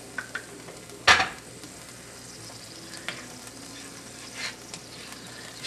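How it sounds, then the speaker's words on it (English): A sauce seasoned with ground black pepper bubbles gently over low heat in a pan, a soft steady sizzle broken early by one sharp scrape of a utensil. "we're just gonna let the sauce low heat cook for like a few minutes"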